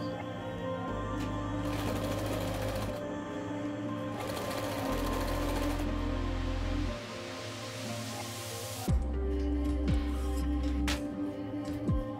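Sewing machine stitching a second seam about 1 cm wide on fabric, loud close motor whirring in several bursts with short pauses between runs.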